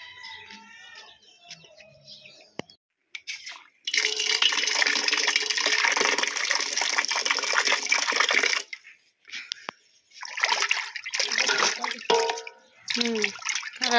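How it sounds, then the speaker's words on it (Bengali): Running water pours steadily from a tap while meat is washed, coming in long loud bursts that stop and start, with birds chirping nearby and a voice speaking between the flows. "মাংসগুলো ধুয়ে নিলাম"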